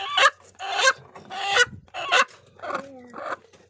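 Native chickens in a coop give a rapid series of loud, close clucks, five or six squawking bursts in quick succession.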